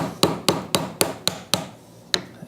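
A mallet strikes a chisel while cutting a wood dovetail, seven sharp knocks in a steady rhythm about a quarter second apart, with a short pause before the last, close and clear.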